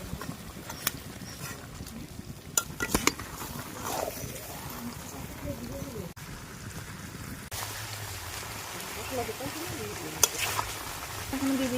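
Country chicken with cumin and coriander paste is stirred in a hot pan, giving soft scraping and low sizzling that runs on steadily with occasional sharp clicks of the spoon, close but quiet.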